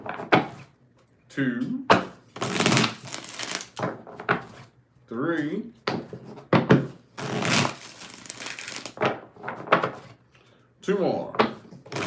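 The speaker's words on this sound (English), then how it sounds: "So let's get 5 shuffles here." Tarot cards being shuffled by hand in bursts of riffling and crinkling during a mini reading, broken by pauses; a person talks in between and counts aloud over the shuffles.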